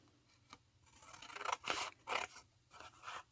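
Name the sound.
cutting with pinking shears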